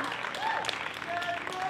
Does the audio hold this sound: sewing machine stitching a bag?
no